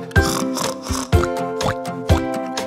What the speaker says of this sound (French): Le cochon dit.